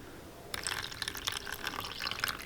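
Suede shampoo poured into a bowl of water, a soft close splashing and trickling of liquid that starts abruptly and carries on steadily for a couple of seconds.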